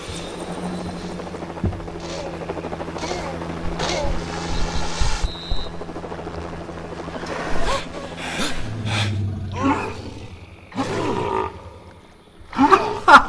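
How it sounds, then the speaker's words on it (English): Helicopter approaching in the LEGO Jurassic World video game, a rotor whir mixed with game music, roars and clanks that rises and falls in bursts, loud and near. "There's another chopper coming!"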